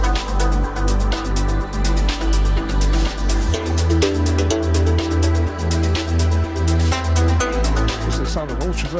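A progressive house track plays loud and full, with a pulsing deep bassline, layered synth melodies and steady beats that drop out briefly partway through before the groove returns.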